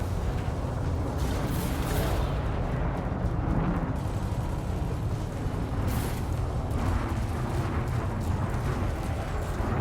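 Fragment cannons fire in Elite Dangerous, dense rumbling bursts under a constant heavy roar of continuous weapon and ship noise, loud throughout with no clear breaks between shots.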